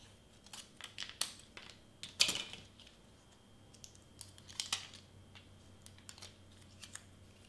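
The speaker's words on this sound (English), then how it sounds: "So I'm gonna cut off a piece here." Strong transfer tape is cut from a roll, giving a string of light, crisp snips and ticks with one louder crackling cut in the middle, close and quiet, with no speech.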